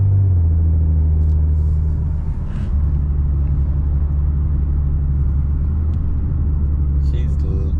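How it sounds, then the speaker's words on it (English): A loud, steady low exhaust drone fills the cabin of an Infiniti Q50S running a nearly straight-pipe exhaust with a Vibrant resonator. A brief dip in the drone comes about two seconds in. "she's loud because she's pretty much straight pipe, but at least the rasp is not there"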